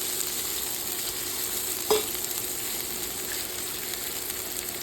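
Red onion fries in hot oil in a pan with a steady soft sizzle, broken once by a brief scrape as it is stirred.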